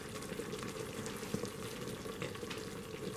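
Honey sesame chicken bubbling in an Instant Pot, a steady, close simmering hiss with soft pops and sputters running continuously at low-moderate volume, no talking.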